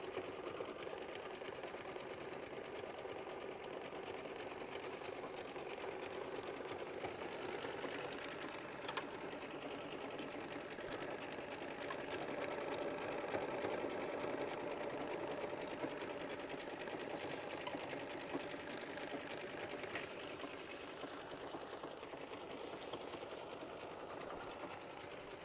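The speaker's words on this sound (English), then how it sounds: "it's just going to do a cute little straight line stitch out here" An embroidery sewing machine stitches a simple straight line while working a floral sampler block, giving a steady, fairly quiet mechanical hum and rapid needle patter that runs evenly throughout with no talking.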